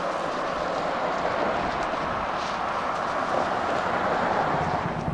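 CSX freight train I-158 rumbling past in a steady, continuous roar with wind buffeting the microphone, no voices.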